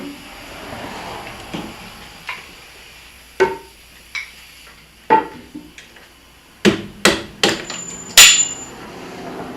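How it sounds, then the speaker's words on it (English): A hammer pounds a bolt out of a jacked-up vehicle in an auto repair shop, delivering about a dozen sharp, ringing metal blows at an irregular pace that grow louder and closer together toward the end. "Another bolt, pound it out."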